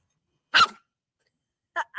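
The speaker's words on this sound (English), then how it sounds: "The puppy doesn't like my healthy balls that make noise. She's legit barking at them." A puppy lets out a few short, sharp yaps indoors: one bark, a pause, then two quick barks close by in an otherwise quiet room.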